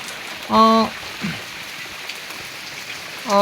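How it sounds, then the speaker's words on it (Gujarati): Light, steady night rain in Jamnagar district patters softly and continuously, with a couple of brief voiced sounds and a faint knock breaking through. "તમે જોઈ શકો છો ધીમી ધારે વરસાદ ચાલુ છે"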